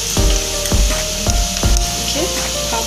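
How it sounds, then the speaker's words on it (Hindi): Onions fry in a hot pan for bhindi masala, giving a steady loud sizzle, with four or five deep knocks of a spatula scraping and stirring at regular intervals. "अभी ऑनियन को हम ब्राउन, थोड़ा सा गोल्डन ब्राउन होने तक ऐसे ही भूनेंगे।"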